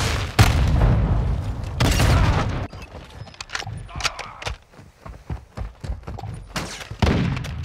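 Explosions and gunfire in Call of Duty: Modern Warfare II, with two heavy booming blasts early on, followed by scattered shots, footsteps and clattering, and another loud burst near the end.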